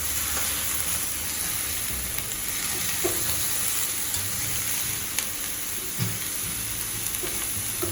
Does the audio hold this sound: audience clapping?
no